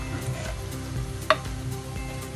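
Puli inchi curry with jaggery is stirred in a pan, a soft bubbling sizzle with one sharp clink of a spoon against the pan partway through, and a faint musical background.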